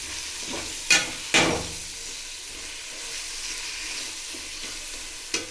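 Green chillies and a handful of mint stirred and fried in a pan, with a steady soft sizzle under a few sharp spoon scrapes near the start and one near the end; no talking.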